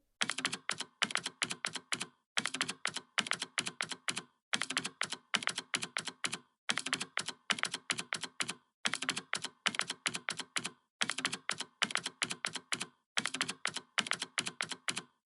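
Rapid bursts of keystrokes on a computer keyboard enter a PAN card number on an online form, coming in steady clusters separated by short pauses, close and clear with no speech.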